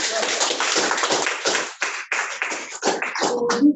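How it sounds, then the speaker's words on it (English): Audience at a real estate conference clapping in scattered bursts of hand claps, fairly close and loud, fading unevenly toward the end. "you can clap if you want to clap."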